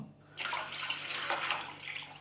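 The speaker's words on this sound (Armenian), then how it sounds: "կես լիտր ջուր լցրել ենք նախապես, 1 լիտր կլցնենք հիմա" About a litre of water is poured into a bowl for a basturma spice paste, beginning after a brief quiet moment and then running as a steady, close splashing stream until the end.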